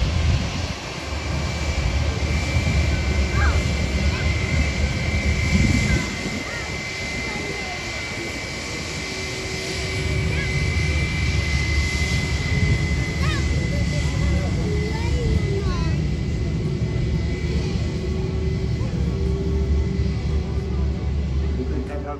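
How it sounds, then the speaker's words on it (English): A white TUI Boeing 737-800 taxis toward the runway at Manchester Airport, its engines giving a steady low rumble and whine throughout. The sound holds at a moderate distance, with a slight dip partway through. "Next up is this white liveried TUI Boeing 737-800 which taxis towards the runway."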